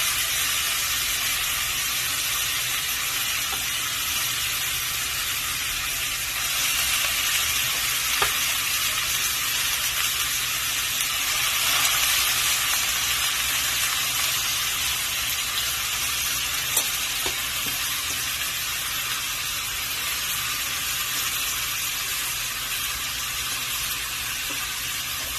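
Bok choy fries in a hot pan for a Filipino sautéed dish with egg and tomato, giving a loud, steady sizzle and hiss that carries on unbroken, with occasional stirring clicks.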